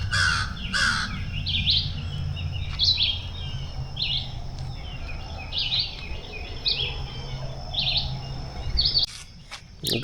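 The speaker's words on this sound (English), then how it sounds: "You can hear this chorus of birds this morning." Morning chorus of birds at Lake of the Pines in East Texas: repeated crow caws mixed with chirps and calls from several birds over steady low outdoor rumble, fairly close and continuous, with no talking.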